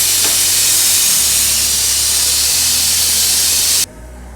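Steam blasting from a pressure cooker as it is opened after cooking mutton, a loud continuous broadband hiss that holds steady for nearly four seconds, then cuts off abruptly to a low hum.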